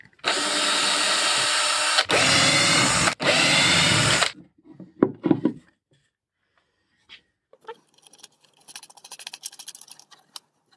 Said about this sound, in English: I want to quickly get rid of the sawdust that occurred when I drilled the USB plug here